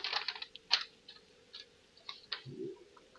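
Computer keyboard typing during a live stream of the game 7 Days To Die: a few scattered, quiet clicks and taps in irregular bursts, with no talking.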